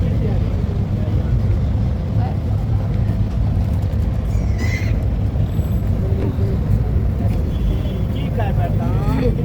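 A boat engine runs near a border waterway, giving a loud, steady low rumble throughout, with voices talking over it.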